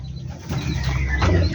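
Pigeons or doves in a backyard cage coo softly in a low repeated murmur, steady across the moment with a faint rustle behind.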